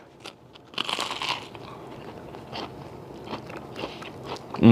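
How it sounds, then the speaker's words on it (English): Crunchy bites of a Scottish deep-fried pizza doused in malt vinegar, with crackly, scraping bursts of chewing across the clip and a loud, close crunch right at the end, with no talking. "And the pizza crunch with the malt."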